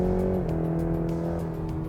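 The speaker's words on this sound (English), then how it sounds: "Now the engine sound went up because now I changed it, and you push it." Cadillac CT4 with its 2.7 liter turbocharged four-cylinder in sport mode, revving with a steady, dense engine note whose pitch dips slightly then holds, loud and close with no talking.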